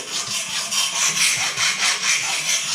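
A knife blade being sharpened on a TSPROF K03 Pro sharpening system, close rhythmic back-and-forth rasping strokes of stone on steel in a steady even pattern, with no talking.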